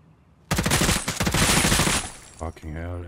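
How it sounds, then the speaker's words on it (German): Enemy automatic gunfire in a first-person shooter, a dense rapid burst of shots lasting about a second and a half, then a few scattered reports, loud and close. "Die schießen und zeigen sich nicht mehr."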